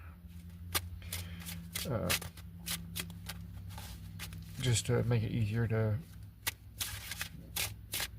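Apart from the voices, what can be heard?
shuffling tarot cards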